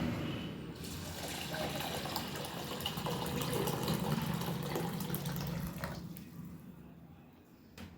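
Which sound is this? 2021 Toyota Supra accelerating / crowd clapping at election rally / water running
water running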